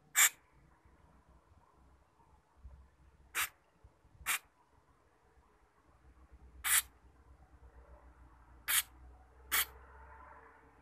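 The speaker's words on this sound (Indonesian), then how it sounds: "Nih kita semprot dulu yang dalamnya sini, untuk bagian sininya." Carburetor cleaner sprayed onto a motorcycle carburetor in six short, sharp hissing bursts, close and isolated, spaced irregularly with quiet between them.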